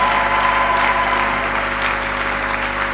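A church congregation claps and applauds in praise during a Sunday service, a steady dense wash of hands filling the room with a constant hum beneath.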